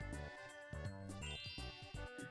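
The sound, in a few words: Bowser phone jingle in the Mario Party 3 video game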